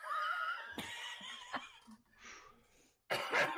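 Several harsh coughing bursts in quick succession, loud and close, with a short quiet gap before a final rough fit of coughing.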